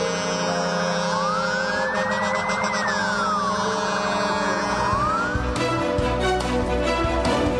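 Wailing emergency sirens rise and fall over steady crowd and traffic noise at a funeral procession for a seven-year-old girl in Paraguay, continuous and fairly loud, with a second horn-like burst joining near the end.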